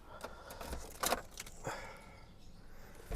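Keys for a Mercedes-Benz W124 jangle in a few quick metallic rattles and clinks, close but fairly quiet, with no one talking.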